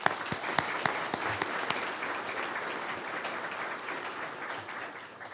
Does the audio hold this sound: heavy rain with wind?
no